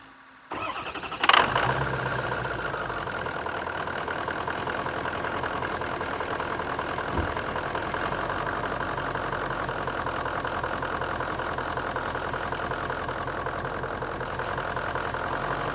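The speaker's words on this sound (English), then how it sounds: "let's see if it'll start" A 2003 Ford F250 pickup's 6.0 Power Stroke diesel, with 168,000 miles, cranks briefly and fires up loudly, then settles into a steady, rumbling idle that runs on without a break.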